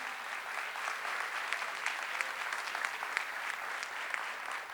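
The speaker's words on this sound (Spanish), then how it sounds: "Bien fuerte el aplauso, bien fuerte que se escucha" Sustained audience applause at a Spanish-language event on child poverty and inequality, an even, moderately distant patter of many hands clapping that holds steady throughout with no voices on top.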